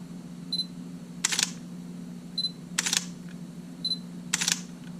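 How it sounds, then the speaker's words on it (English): A Sony A7 II mirrorless camera fires its shutter three times at an even pace, each crisp click preceded by a short focus beep, close up against a low background hum. "Shutter button's working."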